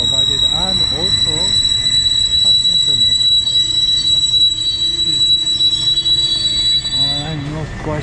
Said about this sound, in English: The train is coming in or pulling in.